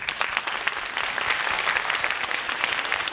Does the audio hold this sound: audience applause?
yes